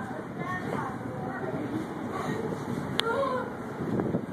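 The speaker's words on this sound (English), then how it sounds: "we're getting some gusts here" Blustery mountain wind buffets the microphone in uneven gusts near a tower, with a low rumbling roar and a brief sharp click partway through.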